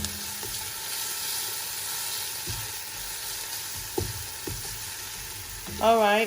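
Spinach sauce stew simmers in a pot with a steady, even sizzling bubble, broken by a few soft spoon knocks and a brief clatter at the end; a voice speaks briefly.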